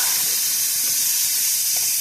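Four to five cups of sausage fry in a skillet over medium heat, giving off a constant close hiss and sizzle with faint crackles underneath and no talking.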